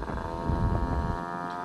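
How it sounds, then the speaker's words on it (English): Honda Urban Express NU50 scooter fitted with a Mikuni VM18 carb, riding along with a steady low engine drone and wind rush, fairly quiet and continuous. "let's go for a little ride on the Honda Urban Express."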